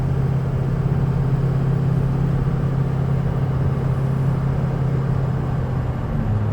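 A 2004 Ford Excursion Limited with a 6.0L Powerstroke diesel and 4WD pulls steadily through its gears, its loud, continuous drone holding near and constant with a shift in pitch toward the end.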